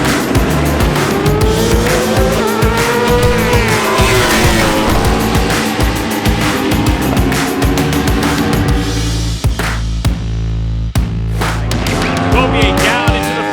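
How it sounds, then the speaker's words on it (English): Superbikes launch off the line at Road Atlanta in an American racing video game, engines screaming loudly and continuously with rising and falling revs, tire squeal and a few sharp transients near the end. "Race number 1, Superbike is underway, and a great launch from your pole sitter."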